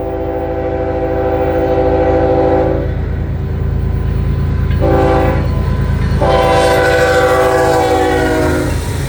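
A freight train with grain cars rumbles past close by, its horn sounding in three long blasts over the steady roll and clatter of the cars.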